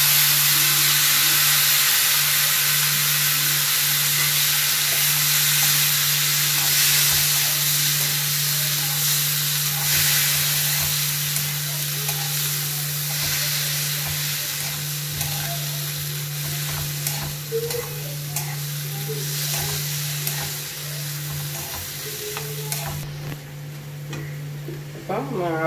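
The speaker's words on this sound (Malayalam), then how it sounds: "ഇതിലേക്ക് ഇനി നമ്മൾ കട്ടി ചെറുതായി അരിഞ്ഞ് വെച്ചിരിക്കുന്ന ടൊമാറ്റോ ആഡ് ചെയ്യുക" Finely chopped tomato sizzles in a pan with fried chillies and dal, giving a continuous loud, close hiss with occasional stirring scrapes. A low steady hum runs underneath throughout.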